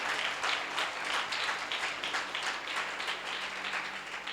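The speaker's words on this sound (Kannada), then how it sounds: "ಚಪ್ಪಾಳೆ ಹೊಡೆಯೋದು ಜೋರಡೆ ಹೊಡಿಬೇಕು" A church congregation claps loudly in sustained applause, a dense continuous patter of many hands lasting several seconds without talk.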